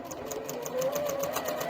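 A sewing machine steadily stitches quilt fabric, running with a fast, even mechanical rhythm close by and without talk.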